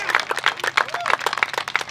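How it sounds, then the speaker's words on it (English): Audience at a Los Angeles Dodgers Foundation groundbreaking for new youth baseball fields claps briefly, a sparse, uneven patter of hands from a modest outdoor crowd, fairly close. "yeah, let's clap for that"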